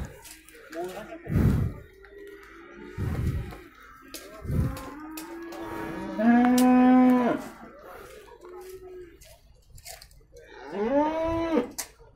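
Cattle at a livestock market moo several times, long drawn-out lowing calls from more than one animal, some close and loud, with gaps of quieter background noise between them.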